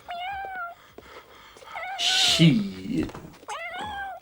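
Meowing of a cat on an old tape recording, in several drawn-out rising and falling cries spread through the clip, with a man cursing briefly in the middle.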